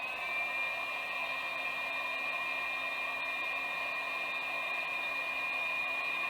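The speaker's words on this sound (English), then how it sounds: "I've got myself a little heat gun, and it's going to pull about 12 amps" A small heat gun drawing about 12 amps runs steadily, a continuous airy whine with a constant hum, even in level from start to finish, no speech.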